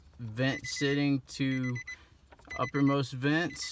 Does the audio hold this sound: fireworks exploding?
no